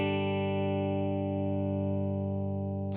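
A single sustained electric guitar note or chord through a Strymon Deco pedal's saturation side rings out with a thick, saturated tone, holding steady and slowly fading before cutting off.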